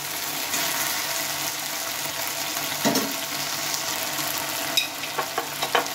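Ginger-cumin paste and spices cooking in a pan, a soft steady sizzle with an occasional scrape and a cluster of quick clinks near the end, no voices.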